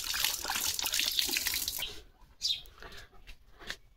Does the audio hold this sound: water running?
yes